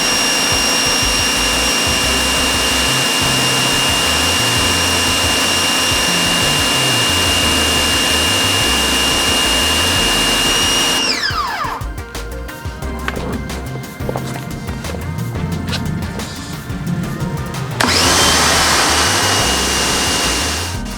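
An electric Ryobi pressure washer with a 15-degree nozzle hums steadily at close range, then breaks into a loud, harsh hissing spray for several seconds before the motor drone returns alone.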